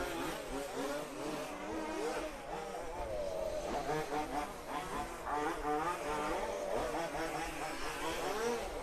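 Several RC off-road race cars with 26cc engines buzz and rev around a track, a dense overlapping drone of high-pitched two-stroke whines rising and falling throughout, fairly distant and continuous.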